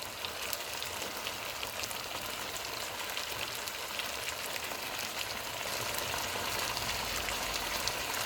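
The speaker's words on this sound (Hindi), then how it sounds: "ऑयल गर्म हो गया है। अब हम चिकन के पीसीस इसमें रख देते हैं।" Chicken pieces frying in hot oil in a pan, a steady, quiet hiss and crackle like light rain that continues without a break.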